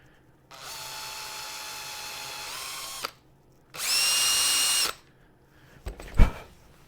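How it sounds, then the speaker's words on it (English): Power drill drilling out a wooden drawer pull in two close bursts, the second higher and louder, followed by a short knock on the workpiece. "Drill that out a little bit further."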